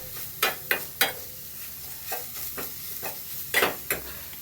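Radish stirred in a pan over a low stove flame, with several distinct scraping stir strokes over a faint, quiet sizzle.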